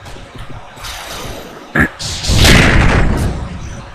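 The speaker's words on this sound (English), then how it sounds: "Bacon just took a missile to the head" A missile strike in a video game: a sharp, brief impact thump followed by a loud, roaring burst of explosive noise that swells and lingers, heard up close.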